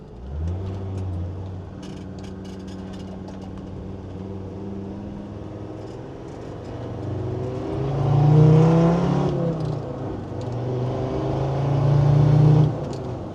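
Land Rover Defender Td5 10P with a stage 2 remap roars on a dyno, a throaty diesel howl that climbs in pitch, eases off, then surges loudly twice more, close and strong with no talk.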